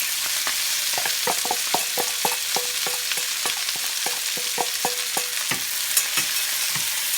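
Minced garlic and chopped spinach saute in a hot pan with a constant close sizzle, punctuated by quick rhythmic scrapes and taps of a utensil stirring, no voices.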